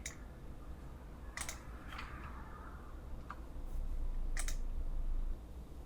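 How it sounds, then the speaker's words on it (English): A few sharp, isolated mouse clicks while operating patent analysis software on a computer, spaced irregularly over quiet room hiss, with no talking. "click OK and click on the resulting worksheet"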